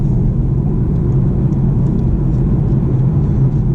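A 2017 BMW 420d xDrive diesel with a torque converter automatic accelerates from about 1500 rpm, giving a steady, heavy low-frequency engine drone and road rumble heard from inside the cabin, loud and continuous with no speech.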